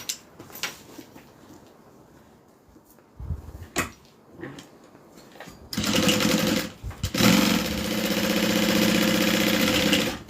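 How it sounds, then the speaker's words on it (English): After several seconds of quiet handling clicks, a sewing machine starts stitching a bag pocket closed, running in two close, steady bursts of mechanical whirring with a brief pause between them. "now let's sew our pocket back up"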